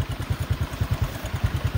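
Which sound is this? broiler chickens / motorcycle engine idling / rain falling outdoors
motorcycle engine idling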